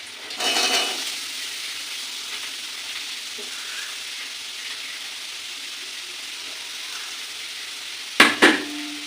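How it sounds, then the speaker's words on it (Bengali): Sliced potatoes sizzle steadily in a hot pan, with a scrape of stirring at the start and two sharp metallic clanks near the end. "আলু ভাজা বসিয়েও দিলাম"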